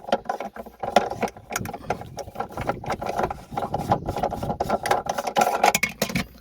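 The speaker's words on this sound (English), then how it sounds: "You want to release the spare wheel by unscrewing this." Spare wheel holder being unscrewed inside the boot of an Audi A5: steady close-up ratcheting and rattling mechanical clicks with scraping, continuing unevenly throughout.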